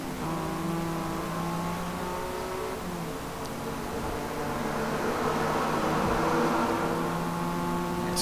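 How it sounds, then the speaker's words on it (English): A higher-revving V6 car engine in Forza Motorsport drones steadily at close range with no talk over it, its pitch holding fairly level before the tone brightens and swells slightly toward the end. "Higher revving V6 in this, as you can see."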